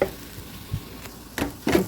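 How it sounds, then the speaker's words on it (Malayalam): Mussel (kallummakkaya) fry is stirred in a pan after pepper powder is added, with a soft sizzle and a few short scraping strokes that grow louder toward the end. "മിക്സാക്കിട്ട് നല്ലോണം മിക്സാക്കി കൊടുക്കാം"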